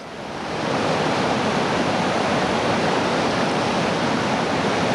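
Whitewater rapids on the Lower New River in West Virginia roar as a dense, steady rush of churning water that swells in during the first second and then holds loud and constant with no voices.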